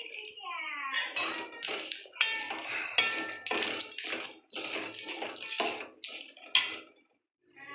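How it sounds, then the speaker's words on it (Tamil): Crab is sautéed and stirred in a pan, producing a run of clattering, scraping utensil strokes against the cookware in uneven bursts, fairly close and loud, then a brief pause near the end. "இந்த ஸ்டேஜில் நம்ம இன்னும் கொஞ்சம் அந்த நண்டை வதக்கிக்கிட்டே இருக்கணும்"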